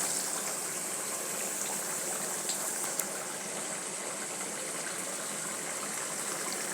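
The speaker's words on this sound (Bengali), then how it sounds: "এখন আমি জল দিয়ে দেবো।" Water pours steadily into a cooking pot of rui fish curry, a continuous close gushing splash with no talk.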